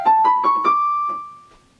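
Violin duet plays the evil theme in its original minor key as a brief run of about six short, quick notes, close and clear, with the last note ringing out and fading.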